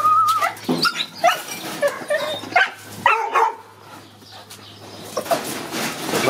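Several dogs whimper, yip and bark in quick, irregular bursts, close and fairly loud, with high whines mixed among the barks outdoors around a hare hunt.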